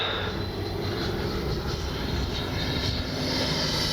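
Steady, continuous jet whine and rushing roar from an FMS Avanti S 90mm RC jet at about half throttle, heard at a constant distance without talk.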